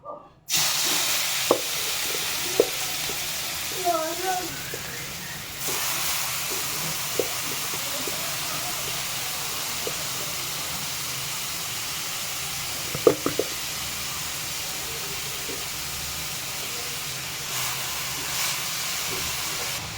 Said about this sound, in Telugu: చూసారుగా ఫ్రెండ్స్, క్యారెట్ బాగా ఫ్రై అవుతుంది.